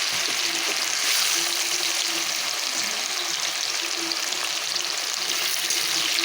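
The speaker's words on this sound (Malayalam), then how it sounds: "ഇനി ഈ എണ്ണയിലേക്ക് നമുക്ക് കുറേശ്ശെ മാങ്ങയിട്ട് വറുത്ത് കൂരിയെടുക്കണം" Mango pieces frying in hot oil make a loud, continuous, dense crackling sizzle that holds steady from start to finish, close up with no voices.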